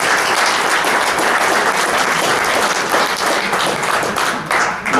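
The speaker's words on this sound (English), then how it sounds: "If we can give them a round of applause to get us started." Audience applause at a candidate forum for a Utah state senate race, steady dense clapping from a crowd filling the room, loud and continuous with no talking over it.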